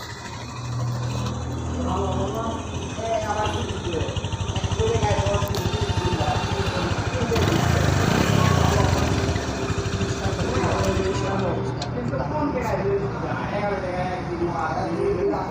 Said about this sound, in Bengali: এবার বাইকের ইঞ্জিনের সাউন্ড কোয়ালিটি দেখুন খুব সুন্দর আছে